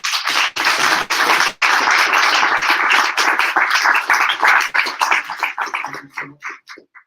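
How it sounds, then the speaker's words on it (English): An audience at a startup founders' event in Vienna applauds as a speaker is welcomed on stage, loud close clapping that tapers to a few scattered claps near the end. "Please give him a big applause."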